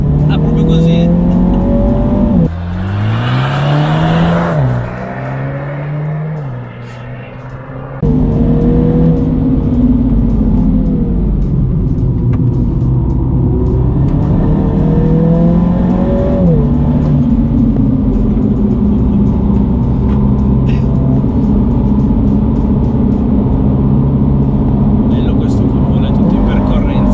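A 2020 Mini John Cooper Works GP on a racetrack revs hard and shifts through gears, rising and falling in pitch, loud and close throughout with a brief drop partway through.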